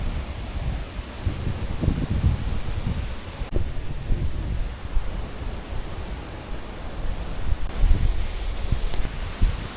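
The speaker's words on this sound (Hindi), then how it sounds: "अभी बड़ी तेज़ हवाएं ये चलने लगी हैं" Strong gusts of wind blow through walnut trees in a village yard, a loud, continuous rushing roar with rustling and buffeting surges throughout, no voices.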